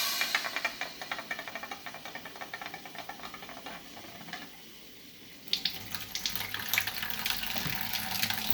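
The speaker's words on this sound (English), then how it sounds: "turn on the water and let the water run" Tap water runs through an Amway eSpring water filter with a fresh cartridge at home. It is a steady close splashing rush that dips briefly, then returns stronger and fuller.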